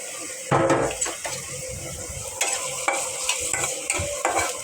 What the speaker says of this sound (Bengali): আমি পেঁয়াজটা দিয়ে দিচ্ছি